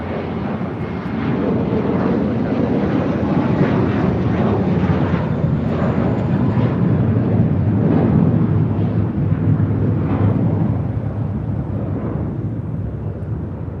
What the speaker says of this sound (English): That was American 1658 taking off to Dallas-Fort Worth on an A321.